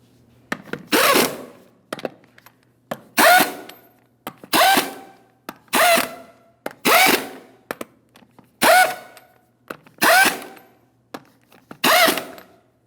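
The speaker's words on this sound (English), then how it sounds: "Now that I have all lug nuts started on, I'm going to lightly bottom them out." A power tool runs lug nuts down onto a GMC Sierra 2500 HD truck rear wheel. It gives about seven loud, short rattling bursts at a fairly regular rhythm, with brief pauses between them and no talking.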